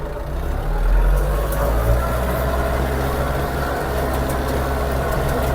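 A Scout 404 walk-behind tractor runs steadily while ploughing a garden, its engine a continuous low chugging drone with a slight swell near the start, close by and with no voices.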